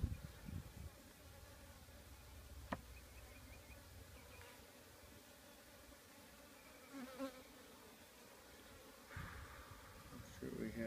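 Honey bees hum steadily in a Kenyan top bar beehive during an inspection, a soft continuous buzz with a few sharp knocks and clicks of handling.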